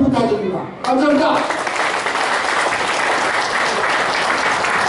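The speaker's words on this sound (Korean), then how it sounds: "여러분 마음껏 큰 박수를 부탁드립니다" Applause from a Korean community gathering breaks out after a voice finishes speaking, a loud, dense, steady clapping from a large crowd that continues for several seconds.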